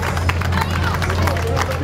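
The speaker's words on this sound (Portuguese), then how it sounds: "Uma salva de palmas." A crowd applauds Mário Patrão, KTM rally rider, at a national all-terrain championship event, with dense clapping and cheering close by under a voice speaking.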